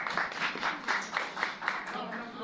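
An audience at a thesis defense in Bamako, Mali claps together in a steady rhythm, a faint, even pulse of about eight to ten beats heard from a distance.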